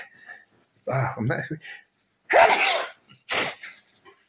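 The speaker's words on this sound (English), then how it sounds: "I'm going to have to blow my nose" A loud, wet nose blow in two forceful bursts, following a few muffled sounds close to the mic.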